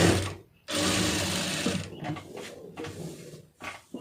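Electric sewing machine stitching a plain blouse, running in a loud steady whirring burst that pauses briefly, then resumes in shorter uneven runs with small mechanical clicks.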